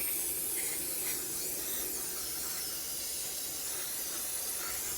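Brake cleaner sprayed onto an oily, slimy Ford engine, a loud continuous aerosol hiss held close and steady throughout, with no talk over it.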